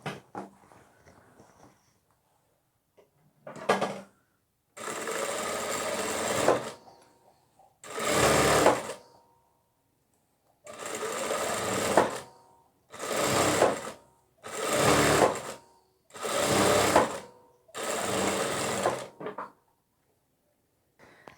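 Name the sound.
sewing machine stitching fabric cover for nursing pillow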